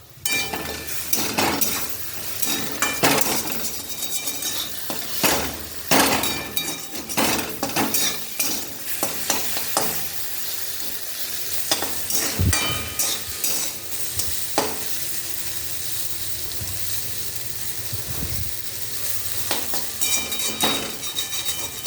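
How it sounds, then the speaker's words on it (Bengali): Egg, onion and potato fry together in a wok, sizzling steadily while a spatula scrapes and clinks against the metal in repeated bursts, close and clear over roughly twenty seconds with no talking. "হয়ে গেল আমার ডিম পেঁয়াজ আলু একসাথে ভাজা"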